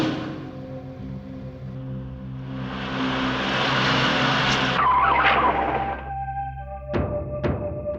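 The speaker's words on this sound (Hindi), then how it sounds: "गाड़ी क्यों रोक दी तुमने?" A car brakes hard with a long tire skid that builds and fades to a stop, followed by two sharp thunks nearby, with no talk.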